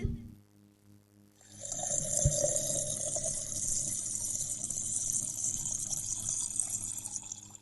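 Soup poured out of a boiling pot in a household kitchen, a steady liquid stream running for several seconds after a quiet start, with a brief knock near the beginning.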